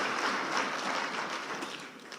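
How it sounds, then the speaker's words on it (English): An assembly audience at a national assembly induction gives a round of applause, a steady patter of many hands clapping at moderate distance, fading slightly toward the end. "Another round of applause for Ambassador Macharia."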